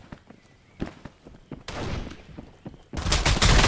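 SMG fire in a battle royale shooter game, scattered sharp shots and thumps building into two dense bursts of rapid gunfire, loud and close with no talk.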